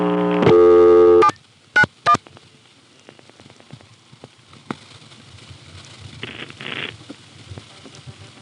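XY step-by-step telephone exchange register sender hanging up and redialing: a loud steady tone cuts off, two sharp bursts follow, then quiet trains of relay and switch clicks and a short stretch of rapid clattering.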